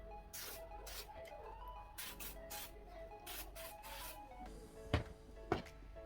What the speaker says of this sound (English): oil sheen hairspray to make it shiny